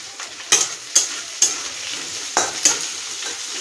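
A spoon stirs and mixes food frying in a pan, giving several sharp scraping clicks at irregular intervals over a soft continuous sizzle, close and clear.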